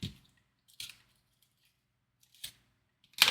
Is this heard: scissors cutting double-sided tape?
yes